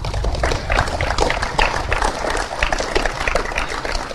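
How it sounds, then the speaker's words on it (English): An audience breaks into dense, loud applause, with many hands clapping close together in a continuous burst that holds for around four seconds. "I would like to give yourself a round of applause for being here today"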